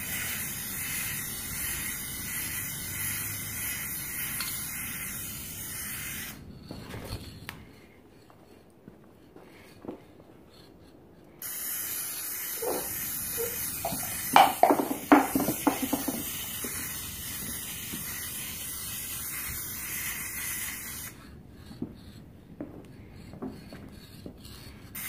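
A rattle can of spray paint laying down primer hisses in long sustained bursts separated by pauses, close and fairly loud, with a few clicks and knocks between sprays and no talking.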